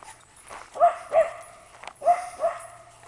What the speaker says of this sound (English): Likes to bark, too.